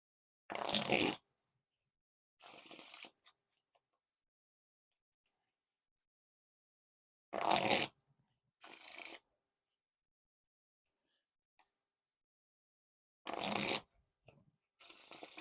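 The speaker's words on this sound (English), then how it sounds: "Now time for the riffle shuffle or bridge shuffle." Playing cards riffled and bridged in short crisp bursts, roughly a second each, coming in pairs with quiet gaps between, close and clear.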